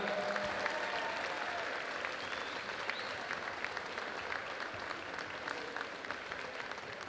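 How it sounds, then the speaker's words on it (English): A crowd at a high school volleyball championship applauds both teams, a dense, steady wash of clapping heard from a distance that holds for the whole stretch. "Let's give it a round of applause to both teams for a hard-court battle."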